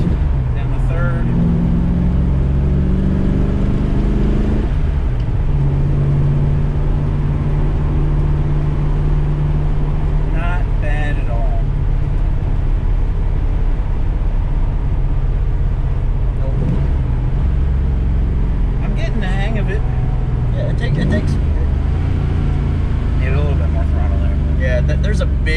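A 1965 Ford Mustang restomod engine idles low and steady, then revs up and drops through downshifts, with brief talk over the motor.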